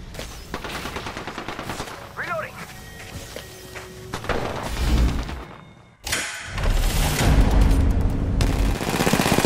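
Rapid automatic gunfire and heavy impacts from the Apex Legends video game, with a burst of dense shots near the end. Game voice lines and effects play alongside the firing.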